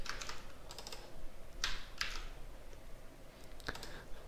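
Rapid, uneven clicking of a computer keyboard while code is typed for a REST Assured API test, with sharper keystroke bursts and short pauses between runs of keys, close and clear with no talking.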